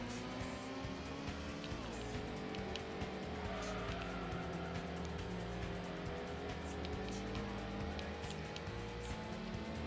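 Race cars screaming around a track in the Gran Turismo video game, including an NSX, with steady high-revving engine whine, shifting pitch and tire squeal throughout, loud and continuous with no voices.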